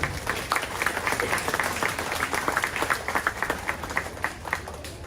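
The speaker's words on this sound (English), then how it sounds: "So I want to give all the kids another round of applause" Audience applause for 4-H kids showing calves at the Shelby County Fair, a steady round of clapping from a crowd, moderately loud and sustained without talk.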